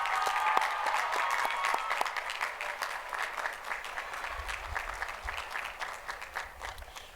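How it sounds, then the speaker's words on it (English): A graduation-ceremony audience at a high school applauds the school staff, a broad, steady wash of clapping from a large crowd that holds for several seconds at moderate distance, with no speech over it. "Please give a round of applause for the Legacy staff."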